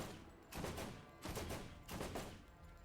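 Gunfire from the video game Borderlands comes in three short, loud bursts of rapid shots about half a second apart, each followed by a brief fading tail.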